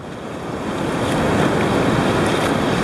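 Ocean waves breaking over a sandbar and dropping into a shallow trough at the edge of a beach, a loud steady roar of surf that swells slightly, with wind buffeting the microphone.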